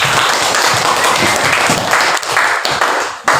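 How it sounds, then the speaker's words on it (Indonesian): A class of students clapping together at the end of a lesson, a continuous loud patter of hands that surges and dips slightly before cutting off near the end. "Bisa diberikan tepuk tangan dulu."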